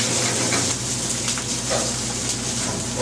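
Filet and crostini searing together in a hot skillet: a steady, close sizzle and crackle of fat runs without a break, with faint kitchen clatter beneath and no talk.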